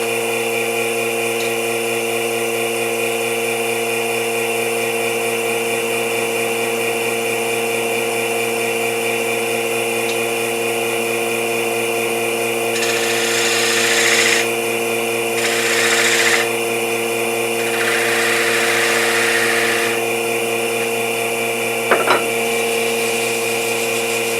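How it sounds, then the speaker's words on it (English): A lathe hums steadily while a half-inch V gouge cuts decorative grooves into a walnut bowl in three short scraping bursts, with a brief tap near the end. "I'm going to take a half-inch V gouge and make a few decorative V-cuts in the bottom"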